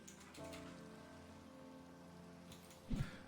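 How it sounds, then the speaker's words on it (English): Minecraft rain, a soft, steady patter running under a faint tonal hum, with a short louder thump near the end. "I want the rain to be gone"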